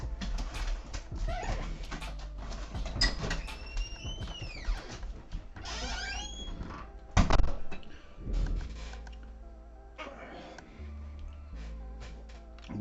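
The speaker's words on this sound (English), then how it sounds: "Gotta let the dogs out" Dogs whimper and yip excitedly while being let outside, with high whining cries, scattered yelps and knocking and shuffling noises close by in a home setting.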